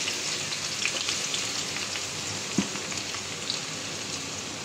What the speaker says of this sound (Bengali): আর এদিক দিয়ে এই তেলটাও গরম হয়ে গিয়েছে। এখানে পেঁয়াজটাও দিয়ে দিচ্ছি।